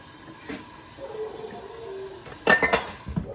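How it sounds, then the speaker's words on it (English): Dishes clatter and clink at a kitchen sink while being washed up, quiet handling at first, then a sharp burst of ceramic and metal knocks near the end. "We got some dishes that need to be taken care of."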